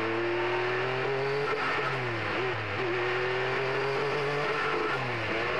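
A Group 44 Jaguar XJR5 IMSA GTP race car drones loudly past with a sustained engine note that dips and rises with gear changes, continuous and close throughout.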